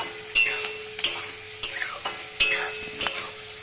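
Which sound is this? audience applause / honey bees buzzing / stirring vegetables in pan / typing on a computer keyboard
stirring vegetables in pan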